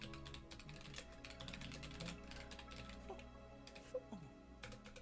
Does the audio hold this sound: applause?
no